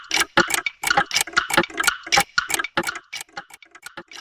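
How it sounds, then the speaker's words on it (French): A clock ticks close and crisp in a quick, rhythmic run of sharp ticks and tocks that continue steadily before thinning out toward the end. "Leur réveil ou l'horloge synchronise le passage du temps à la respiration de leur dormeur"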